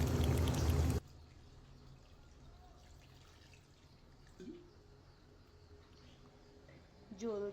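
Water pours loudly into a pan of braised duck curry for about a second. The rush then cuts off, leaving a quiet simmering background with a few faint clinks.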